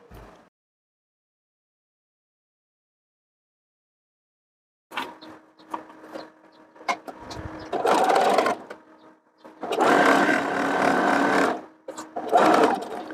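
Sewing machine stitching the back seam of a lined child's dress with a ruffled yoke, short bursts of rapid mechanical clatter separated by pauses, close and fairly loud.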